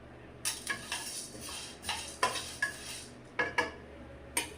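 Spices for sambar powder are dry-roasted and stirred in a pan. A spoon scrapes and clinks against the metal in a steady series of sharp strokes, close and fairly quiet, with no talk.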